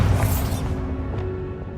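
A Bombarda spell explosion in a Harry Potter video game: a heavy, booming blast that hits loud at once, then fades into a low rumbling decay over about two seconds.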